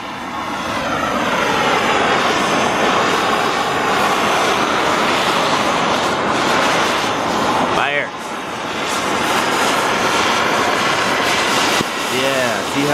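A torch chars the end grain of a wooden post, making a loud continuous roaring hiss that drops out briefly partway through and then resumes.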